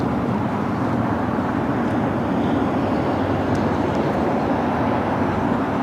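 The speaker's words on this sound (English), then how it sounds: "The big Q just touching down here on the south side, A350-1000" A Qatar Airways Airbus A350-1000 touches down on the south side runway at LAX, heard as a steady, broad roar of jet engine and airframe noise from a distance with no clear peak.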